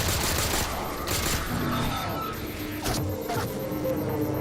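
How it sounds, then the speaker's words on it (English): Rapid automatic gunfire from Halo 4 rattles on continuously, with dense overlapping shots and sharp cracks throughout. "Who else is shooting at me?"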